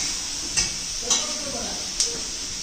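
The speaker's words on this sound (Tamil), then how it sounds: "நல்லா வதங்கட்டுங்க, தக்காளி வதங்கட்டும்." Tomatoes sautéing in a pan of ginger-garlic paste for chicken biryani, a steady broadband sizzle with three sharp stirring clinks spaced through it, close and moderately loud, no talk.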